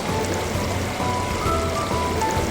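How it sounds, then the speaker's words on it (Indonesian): Water from the Kedung Kayang waterfall in Magelang pours down in a dense, continuous rushing wash, loud and steady, with no voices over it. "Suara deburan air yang jatuh dari ketinggian sudah semakin dekat kita rasakan."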